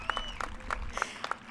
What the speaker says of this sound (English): That's right, clap for yourselves.